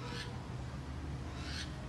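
Owls call from the enclosures at a Brazilian city park zoo, the Parque Bosque dos Jequitibás, with two short, breathy hoots spaced about a second and a half apart over a steady hiss of outdoor background noise.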